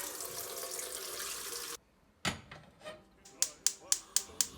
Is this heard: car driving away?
no